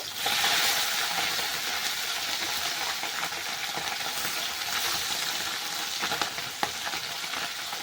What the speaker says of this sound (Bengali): মাছের এক পিঠ ভাজা হয়ে গেছে, এবার মাছটাকে আমি উল্টে দেব।